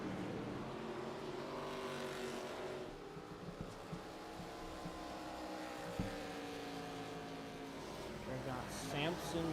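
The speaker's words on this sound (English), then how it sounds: "Top car battle there for the 10th position back." Race cars battle for position on the New Hampshire track, engines droning and shifting in pitch as they pass, with a commentator talking over them throughout.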